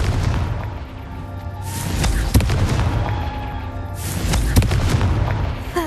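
Fiery blast spell from Hogwarts Legacy, a magic video game: deep rumbling booms roll in waves with sharp cracks around two and four and a half seconds, loud and close over a dense effects bed.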